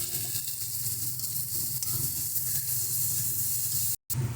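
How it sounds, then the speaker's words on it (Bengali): Spice paste for a duck egg curry fries in a pan with a steady, loud, bright sizzle and hiss that carries on evenly, then cuts off briefly near the end. "আমরা একটু মশলাটাকে ভেজে নিই"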